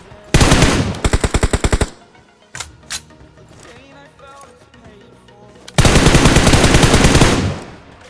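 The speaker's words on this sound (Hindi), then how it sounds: "अब मैं और मेरे टीममेट स्मोक के अंदर अंधा फायर दे रहे होते हैं" Automatic gunfire in the battle game BGMI, fired blindly into smoke: loud rapid bursts open the sequence, a few scattered single shots follow, and a long sustained burst comes near the end, with faint game sounds in the gaps.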